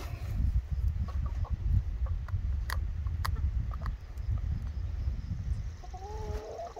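Americana chickens and a rooster on a farm, soft clucks and a short call rising over low, rumbling outdoor background noise, fairly faint and scattered.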